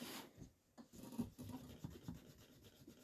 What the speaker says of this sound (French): je vais gommer là où il faut.